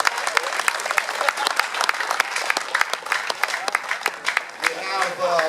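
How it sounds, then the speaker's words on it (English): Sustained audience applause at a welding academy closing ceremony, dense clapping throughout with a few voices and shouts mixed in near the end. "round of applause for everybody."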